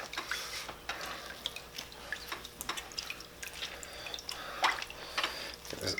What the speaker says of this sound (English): take that skin out of the water, and you're going to wring it out.